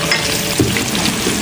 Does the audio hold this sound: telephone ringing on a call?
no